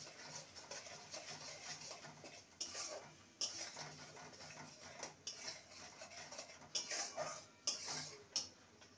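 Spice masala with cumin powder is fried and stirred in a pan for a vegetarian jackfruit seed dish, metal spoon scraping and clinking against the pan in repeated strokes over a faint sizzle.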